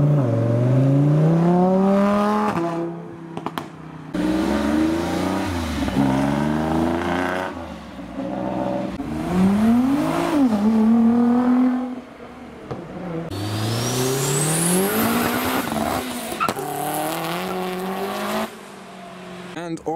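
A Nissan Skyline R34 four-door pulls away from a car meet, its engine revving up and down through several loud, rising sweeps with gear changes. It grows more distant and ends in a high whine.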